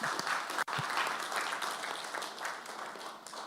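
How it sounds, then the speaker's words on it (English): Applause from a conference audience for panelists at a UN Environment Assembly session on air quality, a steady, fairly distant wash of clapping with no break. "Let's give them a good round of applause."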